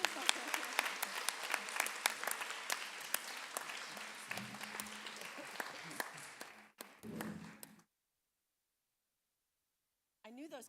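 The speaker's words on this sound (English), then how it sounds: "please give him a round of applause." An audience at a school board meeting applauds loudly as a man is brought on stage, a dense, steady clapping that fades out near the end, then silence and a brief return of sound.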